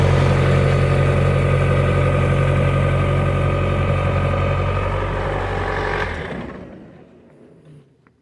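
A Bobcat Toolcat 5600 utility work machine idles with a steady, loud, low engine drone that runs unbroken for about six seconds, then shuts off and winds down into quiet.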